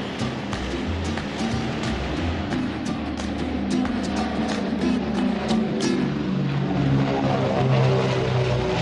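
A steady, loud drone from a Lufthansa Super Constellation's propeller engines at takeoff, constant and rumbling throughout, with faint crackle on top.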